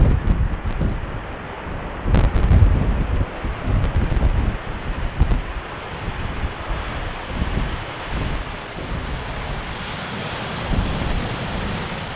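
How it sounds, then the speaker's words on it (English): Boeing 737 on a crosswind landing at Amsterdam Schiphol, runway 18R: broadband jet engine roar that swells in gusts, mixed with heavy microphone wind buffeting, loud and steady for the whole stretch. "Thrust for this 737."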